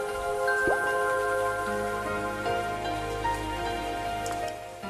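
Steady rain falls in a dense, even hiss for the whole stretch, with sustained tonal lines ringing over it and no one speaking.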